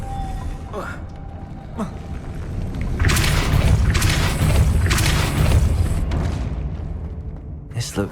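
Depulso spell cast in the Hogwarts Legacy video game, a loud booming burst of force swelling for several seconds with rumbling low end and crackling effects, following a few softer earlier hits.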